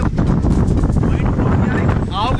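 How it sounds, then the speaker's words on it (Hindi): Strong cold wind buffets the microphone beside a river at night near Rishikesh, a loud continuous roar that stays dense throughout, with a voice speaking over it. "इतनी ठंडी हवा चल रही है।"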